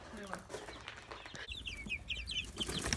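Chickens in a flock cluck and chatter faintly in the background alongside a soft human voice, with some rustling and a brief high squawk-like burst.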